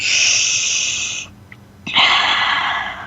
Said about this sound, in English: So let's breathe all of that in.